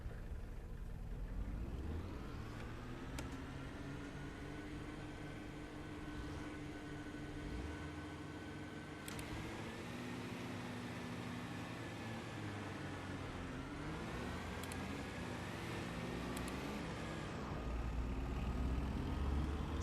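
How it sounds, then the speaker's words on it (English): A Ford Transit van in Assetto Corsa roars at the race start, engine revving hard with steady whining drone and tires spinning, loud and continuous with shifting pitch. "Spun out the tires massively on the start"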